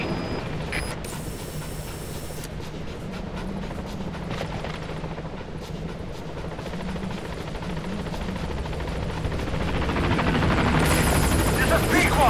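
A helicopter in Metal Gear Solid V approaching a landing zone, its steady rotor thrum close and continuous, swelling louder toward the end as it nears.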